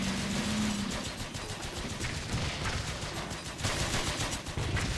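In the Blitzkrieg 3 strategy game, a 222 armored car opens up with bursts of rapid gunfire. The rattle is steady and fairly faint beneath the battlefield noise, with an engine droning low throughout.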